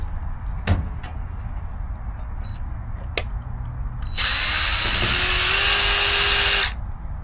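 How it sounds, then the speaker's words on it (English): A power drill with a 3/16-inch bit whirs steadily for a couple of seconds pre-drilling a hole, close and loud, after a few sharp knocks and clicks in a quiet room. "We're gonna pre-drill with the 3/16 first."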